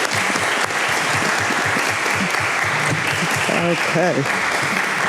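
A crowd applauds steadily at a political candidate forum, dense clapping filling the room while a voice speaks briefly underneath.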